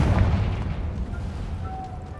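A Confringo fire spell blasts in Hogwarts Legacy, a deep booming explosion with a heavy low rumble that peaks at the start and then rolls on, no talking over it.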